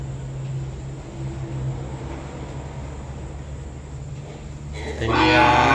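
Cattle at a cattle farm, with a low sustained lowing tone through most of the stretch, a steady low hum behind it, and a louder, broader burst of noise near the end.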